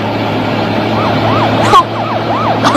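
A police siren wails in repeated rising-and-falling sweeps over a steady low engine hum, with one sharp burst partway through.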